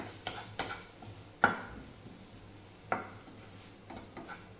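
Capsicum filling stirred in a pan for veg bread pizza pockets, with a few sharp scraping clinks of a spoon against the pan over a soft background hum.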